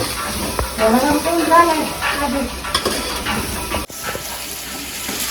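Mutton fry sizzles and crackles loudly in a pan up close, with stirring and scraping throughout, during a Sankranti family cooking day, while a voice talks over the first part.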